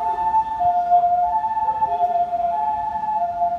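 An ambulance siren passes along a city street, its steady wailing tones clear and moderately loud over low traffic rumble, with no talking.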